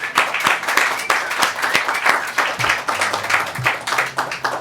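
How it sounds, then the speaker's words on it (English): An audience applauds after a talk on medical freedom, a full, close wash of clapping with uneven surges and a few low thumps, continuing throughout. "a big round of applause to Joe Rose and Fernando Uribe"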